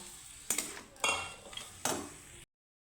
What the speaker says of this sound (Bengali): সুন্দর করে আমি একটু নাড়িয়ে চেড়ে দেব